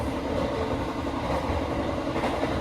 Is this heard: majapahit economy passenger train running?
yes